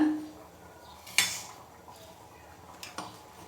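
A mixer jar for raw mango pieces is picked up and set down, with a few sharp hard knocks and clinks against a quiet kitchen background.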